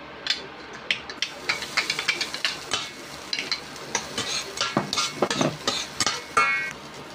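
Chopped onion sautéing in a hot pan for a salmon burger sauce. It gives a steady sizzle broken up by repeated scraping and stirring strokes of a utensil, with faint clinks against the pan, heard close up and alone.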